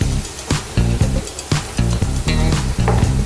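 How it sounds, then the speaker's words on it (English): Potato cubes stir-frying in a cup of hot oil over medium heat, a steady sizzle broken by rhythmic scraping stirs about every half second, close and fairly loud. "Stir fry the potato cubes for about 2 minutes on medium heat"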